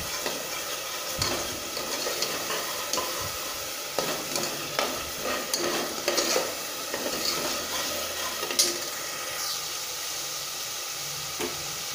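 Masala of tomato and spices fries in hot oil, a steady dense sizzle with occasional scraping stirs of a spoon in the pan, close and continuous with no talking.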